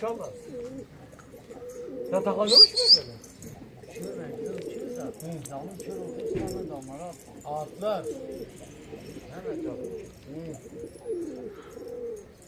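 Soft, low cooing from pigeons close by, repeated throughout, mixed with a few brief chirps and people talking nearby.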